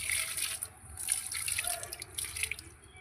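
Water pours and splashes steadily onto rose and hibiscus plants in a home garden, a close, continuous trickling with light dripping throughout.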